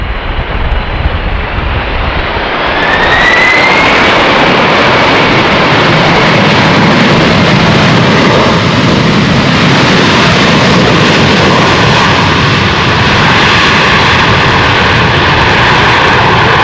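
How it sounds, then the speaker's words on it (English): Boeing 747-400 jet arriving at Amsterdam Schiphol in a crosswind, a loud, sustained engine roar that swells quickly as it passes close overhead, with a rising whine and broad rumble and no voices. "Coming in, Suparna, Boeing 747-400, in from Hefei."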